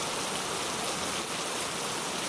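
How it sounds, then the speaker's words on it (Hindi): Heavy rain pours down steadily in a dense, constant hiss with no pauses, filling the scene evenly from start to finish with no voices. "तेज बारिश के बीच शेर एक सुरक्षित जगह की तलाश में निकल पड़ा।"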